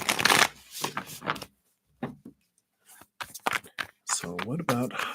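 Tarot cards are shuffled in several quick riffling bursts, with a voice talking between and over them.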